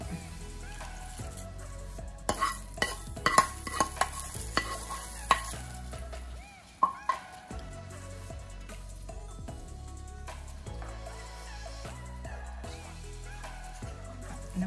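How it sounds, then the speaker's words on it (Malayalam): Fried mustard seed tempering going into beetroot pachadi made with curd, then stirred: scattered sharp clinks and scrapes of a spoon against the vessel over a soft low background, with no talk. "ഇനി ഇതിലേക്ക് നമുക്ക് നമ്മുടെ കടുക് വറുത്തി വെച്ചിരിക്കുന്നത്"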